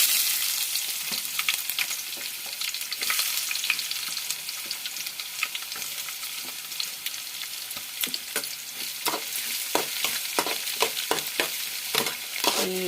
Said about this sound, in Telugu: ఆనియన్ వేద్దాం.